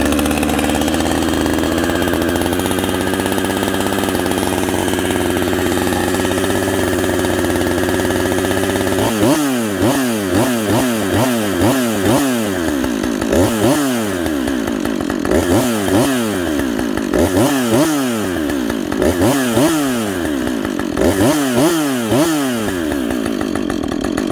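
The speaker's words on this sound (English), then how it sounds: "Okay, here's a cold start. This is an auto-tuned saw." An auto-tuned Husqvarna 562xp chainsaw idles steadily at a cold start, then is revved in repeated loud bursts, each rising to a high scream and dropping back, close and alone.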